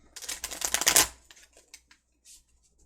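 Tarot cards shuffled by hand in a dense burst of quick riffling flicks for about a second, followed by a few scattered, fainter card taps and slides close by.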